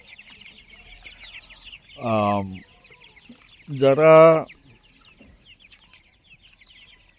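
Tiger chickens, 28-day-old birds, give two short clucking calls a moment apart, close and fairly loud over a steady chirping background.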